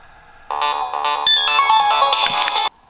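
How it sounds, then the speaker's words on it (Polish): A phone ringtone plays loudly and close, a bright chiming melody of quick repeated tones lasting about two seconds before cutting off abruptly, with no talking over it. "Wybaczcie telefon, ale nie chciałem ucinać nagrania. Słyszeliście przy okazji mój dzwonek."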